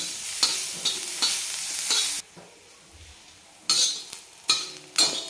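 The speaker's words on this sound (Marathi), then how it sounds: "तर अशा प्रकारे आपला हा कांदा पण छान सोनेरी कलरवर आपण परतून घेतलेला आहे" Onions frying in oil in a pan until golden brown for dhaba-style shev bhaji, a steady sizzle broken by several loud bursts of scraping and stirring, with a quieter gap near the middle.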